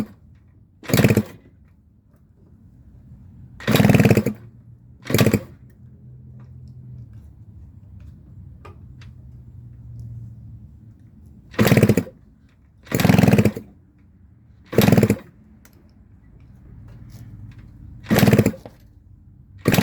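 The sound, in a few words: 1978 Yamaha DT100 motorcycle engine running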